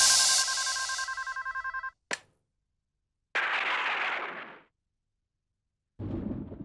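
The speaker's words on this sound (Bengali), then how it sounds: "তোমার যাওয়ার প্রায় 2 ঘন্টা পর প্রমোদের ফোন আসে আমার কাছে।" An old-style telephone bell rings in rapid repeated trills, then stops abruptly, followed by sharp dramatic sound-effect bursts with silence between, all fairly close and loud.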